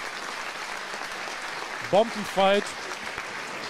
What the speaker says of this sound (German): Nochmal einen herzlichen Applaus für beide Kämpfer.